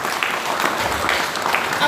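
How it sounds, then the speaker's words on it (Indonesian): A congregation at a medical faculty worship service breaks into a short burst of steady, dense applause, fairly distant and moderately loud, with no voices over it. "Tepuk tangan dulu untuk Tuhan kita"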